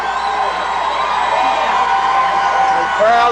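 A high school football crowd at a 1993 game cheers and whoops as it rises to its feet, a steady broad roar that swells slightly toward the end.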